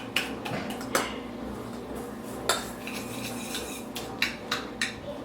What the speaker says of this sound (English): So we're just going to mix that in with the brown sugar.